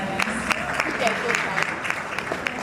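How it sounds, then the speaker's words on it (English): Lively audience applause at a YouTube creator day masterclass event, steady clapping with crisp individual claps up front and some voices mixed in. "Another round of applause for them."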